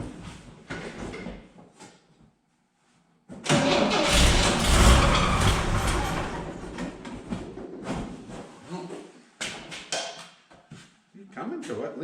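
An old Chevy engine cranking on seven-year-old gas: a couple of short cranking bursts, a pause, then a loud catch and rough running that fades and surges again, with someone talking between attempts.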